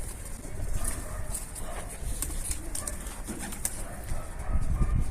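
Pigeons in a loft coo repeatedly, close by, their soft rolling calls overlapping with a few higher chirps and faint rustling.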